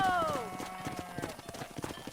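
Short burst of galloping horse hooves in Red Dead Redemption, quick irregular thuds following a falling tonal sound at the start, heard close under a voice.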